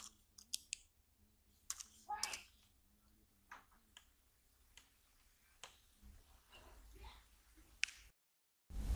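An Apple iBook G4 keyboard being typed on gives faint, sparse, irregular clicks and taps, quiet and close, with soft handling noises between keystrokes.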